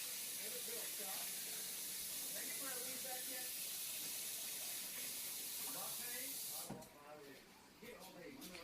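Warm water from a tap runs steadily into a cup for slime-making, a loud continuous hissing stream that cuts off near the end, with a voice talking quietly underneath.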